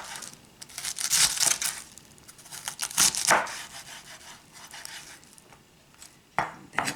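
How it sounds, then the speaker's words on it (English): A knife slicing a halved cabbage into fine julienne on a board, with several bursts of quick crisp cuts and rubbing strokes, a short pause, then a last flurry of cuts close up and alone. "So that's how you cut a cabbage"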